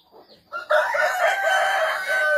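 A rooster crows loudly and close by, a long sustained call after a couple of short clucks at the start.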